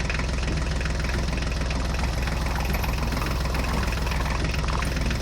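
Tractor engine running steadily with a continuous low rumble and slight knocking vibration, loud and close throughout with no voices.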